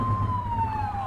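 A police car siren wails in The Precinct video game, a short, clear falling tone heard close and alone over a low engine rumble.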